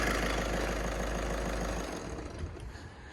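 A Seat Leon's 1.6 diesel engine idling with a steady low rumbling drone that eases off slightly partway through, heard alone without speech.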